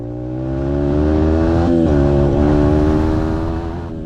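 A dirt bike engine pushed fast along a trail, loud and close with a steady droning roar that rises slightly in pitch, holds, then eases off, no talk.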